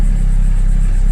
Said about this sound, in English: Something's definitely wrong with it. It's going in the shop in a couple of weeks, but you see how bad it's idling.